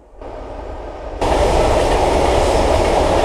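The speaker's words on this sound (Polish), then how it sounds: "Akurat teraz musiał jechać pociąg." A train rumbles by close and loud on a rural route near Tarczyn, Poland, its roar swelling suddenly into a steady, heavy wash of rail noise; no one speaks.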